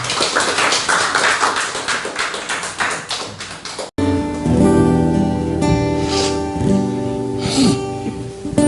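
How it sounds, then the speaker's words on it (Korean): A church congregation claps during Sunday worship, giving about four seconds of lively, dense applause that gives way abruptly to sustained music. "우리 하나님께 영광의 박수 올려드리겠습니다."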